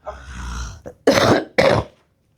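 A person nearby clears their throat, then coughs twice in quick succession, sharp and close, followed by silence.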